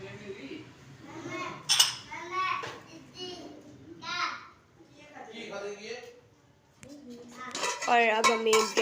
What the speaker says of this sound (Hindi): और अब मम्मी बिरयानी निकालने लगी हैं।